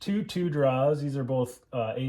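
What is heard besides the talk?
No distinct noise like a dog, phone or traffic.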